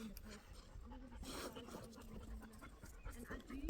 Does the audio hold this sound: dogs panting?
yes